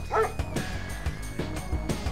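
Attack dogs from the strategy game Command & Conquer: Red Alert 2 Yuri's Revenge barking in quick, repeated yips and bow-wows over continuous game sound and music, with a sustained tone running beneath.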